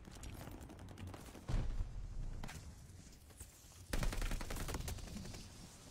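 Rapid submachine gun fire in a first-person shooter video game, with dense bursts of shots that swell loudest in two heavy volleys amid continuous battle noise.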